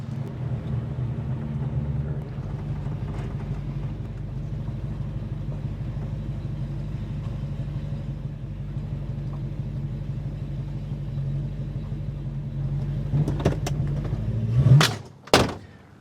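A 1966 Ford Fairlane GTA with a 390 FE V8 rumbles steadily from inside the car during a ride, a deep low idle-like drone that swells near the end with a short loud rev before cutting off.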